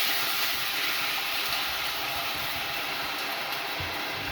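Red Rioja wine poured into a hot pan for braised lamb shanks: a steady, loud hissing sizzle that holds evenly without breaks.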